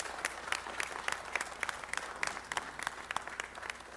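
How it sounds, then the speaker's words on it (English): A city council meeting audience gives a round of applause, a moderately distant spread of clapping with a few sharp, distinct claps standing out. "Let's give him a big round of applause."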